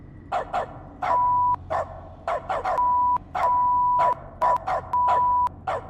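A dog barks in a quick irregular series of sharp, loud, close woofs, some short and some drawn out into yelps, with no talk over them.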